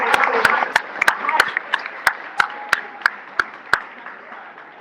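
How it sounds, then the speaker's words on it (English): An audience claps for honorable mention students at a chess club award ceremony in an art museum hall. The applause is moderate and sustained, with sharp individual claps standing out, and it gradually thins toward the end. "Let's give another round of applause for our honorable"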